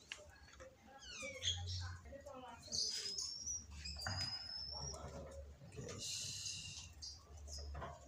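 Week-old zebra dove chick chirping while hungry, a run of thin, rapid high cheeps and squeaks near the microphone, mixed with low rumbling handling noise and brief background sounds.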